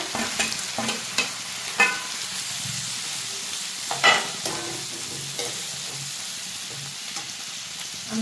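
Four medium tomatoes tipped into softened onions frying in a pan for butter chicken masala, giving a steady close sizzle broken by spatula scrapes and stirring knocks.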